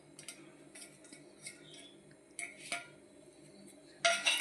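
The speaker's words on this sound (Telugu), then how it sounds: "మొత్తం అంతా మిక్స్ చేసుకోవాలి." Sliced onion and spices are mixed by hand in a bowl for onion pakoda, with soft scattered clinks and scrapes against the bowl and a louder rustling burst at the end.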